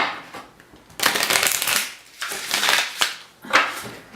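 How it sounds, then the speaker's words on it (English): Tarot cards are shuffled in several quick riffling bursts, close and crisp, separated by short pauses. "Let me give one little shuffle."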